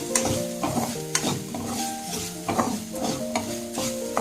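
Okra (bhindi) being stir-fried in a pan for bhindi masala, a soft sizzle under rhythmic scraping and clattering of a spatula, several strokes per second, close up with no voices.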